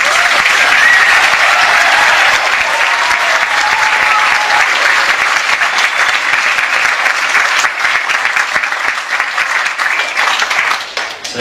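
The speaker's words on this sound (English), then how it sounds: "a big round of applause for these kids who have been absolutely brilliant" Loud, dense applause from an audience after a primary school's 2017 play, performed by year six pupils, sustaining for several seconds before thinning slightly toward the end.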